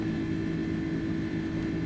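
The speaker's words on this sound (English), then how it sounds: "And the engines should be slowing down." Airbus A310 jet engines in a flight simulator game drone steadily as a dense, even low roar with a faint high whine, continuous and unchanging.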